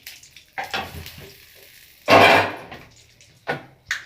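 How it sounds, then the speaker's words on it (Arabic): Ghee and cooking oil melting together in a pan, giving soft intermittent sizzles and stirring scrapes, with one louder, longer burst of frying hiss in the middle and short crackles after. "لازم السمنه تدوب خالص يا حبايبي كده"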